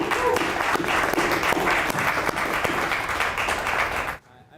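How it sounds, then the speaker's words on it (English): Applause for a news team in the field near Antakya, a dense sustained round of clapping filling the space for about four seconds before cutting off abruptly into near silence. "A round of applause to the team here for the incredible work that they"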